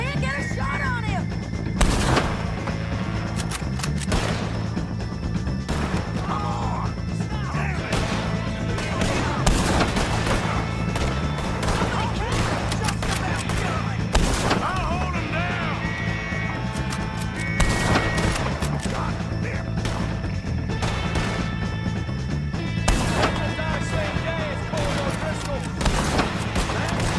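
Heavy, repeated gunfire in a Red Dead Redemption shootout, loud and close bursts over a constant noisy battle, with voices shouting between the shots.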